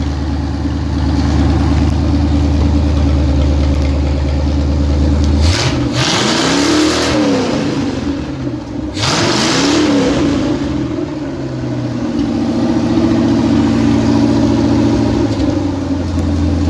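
A demolition derby Cadillac's engine idles with a steady rumble, then revs hard twice around the middle, each burst rising and falling, before settling back to a loud, close idle.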